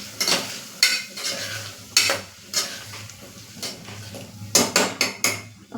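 A spoon scrapes and clatters around a pan as coriander-cumin powder is stirred into a green bean and potato curry, with repeated sharp metallic knocks over a low, steady sizzle, close up and with no voices.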